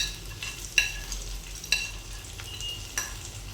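Cashews and curry leaves drop into hot oil for a chicken fry, giving a soft, steady sizzle with a few sharp clicks and stirring scrapes, close and fairly quiet.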